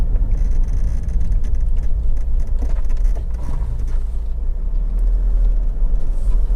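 A 2011 Honda CR-V 2.2 i-DTEC diesel idles steadily up close, a continuous low rumble with an even throb and no one speaking.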